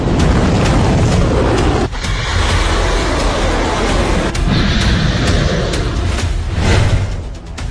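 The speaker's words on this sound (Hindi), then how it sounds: "इजराइल में ईरान की जुल्फिकार मिसाइलों के धमाके" Iranian Zulfiqar missiles exploding in Israel: loud, heavy booms that cut through a constant roaring rumble, with several sharp blasts and bursts spread across the scene.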